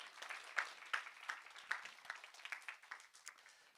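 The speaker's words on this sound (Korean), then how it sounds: "우리 박수 한번 보내주시." A church youth congregation gives a round of applause, fairly faint and thin, with scattered individual claps pulsing unevenly and tapering off.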